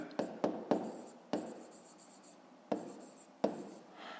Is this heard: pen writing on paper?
yes